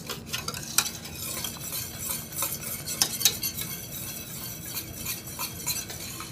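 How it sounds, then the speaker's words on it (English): A spoon stirs a bubbling vegan cheese sauce in a pot over heat, with soft scraping, occasional light clinks against the metal and a faint sizzle underneath, fairly quiet and close. "Get all of this mixed in."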